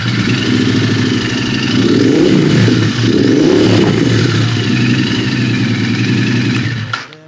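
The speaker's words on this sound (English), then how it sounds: "It's very important that it sounds like a motorcycle, and I think it does." A Royal Enfield motorcycle engine runs loud and close, rumbling steadily with a couple of swelling revs before cutting off abruptly at the end.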